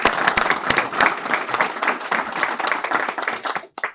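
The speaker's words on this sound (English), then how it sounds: "we can give him a round of applause" Applause from an audience at a police promotion ceremony honoring a newly promoted assistant chief: dense, steady clapping with a few sharp nearby claps standing out, fading near the end.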